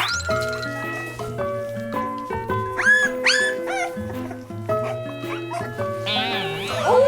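A litter of puppies fussing and clamoring for food while waiting to be fed one by one, with overlapping high yelps, whines and squeals, loud and close and almost continuous.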